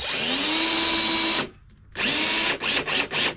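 A power drill drives screws into a thin 1/8 luan wall, one long steady whine, a short pause, then another run ending in several quick stop-start bursts, close up.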